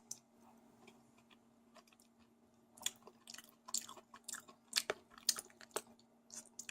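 Close, intimate chewing of vegetarian tortellini in tomato sauce, soft wet bites and mastication ticks that start sparse and grow denser, over a low steady hum.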